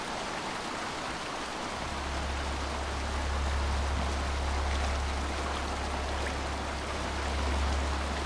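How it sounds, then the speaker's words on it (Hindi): A waterfall in the video game A Quiet Place: The Road Ahead, heard as a steady, full rushing roar of falling water with a deep low rumble, continuous and unbroken with no voices. "तो ये रहा झरना"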